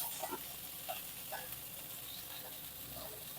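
Amaranth leaves dropped into a pan of hot oil give a soft, steady sizzle with a few light clinks and stirring sounds, fairly quiet and close.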